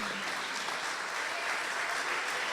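A crowd at a church service applauds steadily, a dense wash of clapping hands filling the room from start to finish.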